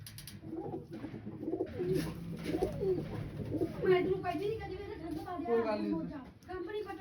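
Pigeons coo softly in repeated throaty calls while people talk nearby.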